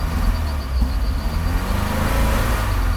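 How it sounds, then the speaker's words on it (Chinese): A VW car engine runs and revs steadily during a test after fuel distributor repair, a continuous close rumble rising slightly in pitch with no talk over it. "我们看到它转速会越来越高"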